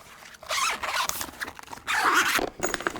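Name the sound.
zipper closing on a Cordoba Mini guitar case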